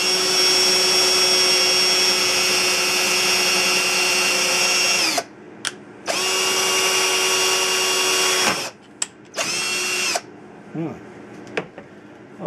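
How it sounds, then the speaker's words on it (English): A power drill bores holes through a Tesla coil's secondary form support flange, whining loudly in long steady bursts with brief stops and short blips between them. "That's a total of 8 holes to drill through"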